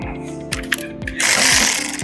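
Ratchet wrench in use during a hawk net repair, quick clicking turns at first, then a louder burst of rough mechanical rasping near the end, close by with no talking.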